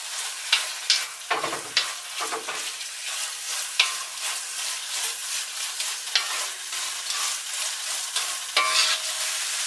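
Small chicken pieces fry with tomato and onion for kothu parotta, a loud continuous sizzle punctuated by repeated scrapes and knocks of the spatula against the pan.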